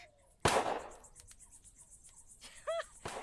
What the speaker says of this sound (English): Would you knock it off with the shooting already?